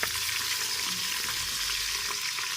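Chopped tomatoes hitting browned onions in a hot pan, giving a steady, bright sizzle with light stirring sounds, close and continuous throughout, with no one speaking.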